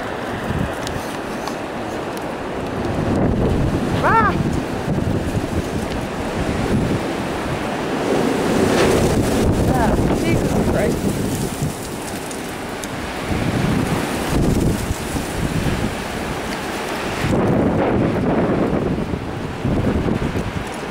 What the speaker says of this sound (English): It's still super windy though.